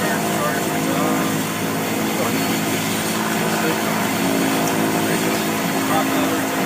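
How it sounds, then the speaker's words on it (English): A Beechcraft King Air turboprop engine spools up on the ground during a start at a school, with a loud, steady roar and whine filling the whole stretch while crew voices run through the checklist over it. "Engine at idle, turn starter switch on."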